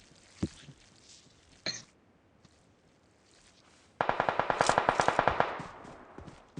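Gunfire in a shooting video game: two isolated shots early on, then a loud rapid automatic burst of evenly spaced rounds that tapers off.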